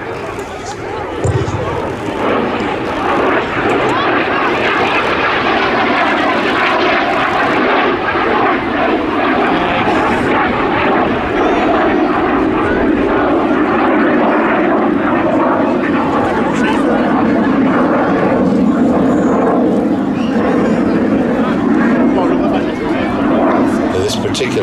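BAC Jet Provost jet trainer flying at an air show, a steady loud engine roar with a slowly shifting pitch, continuous throughout under faint crowd murmur.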